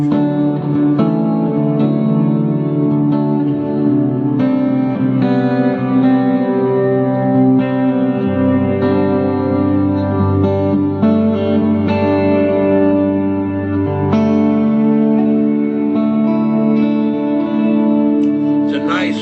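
An electric guitar loop rings out through a warm, reverb-drenched Fender Deluxe Reverb amp, chords and single notes sustaining fully and evenly throughout.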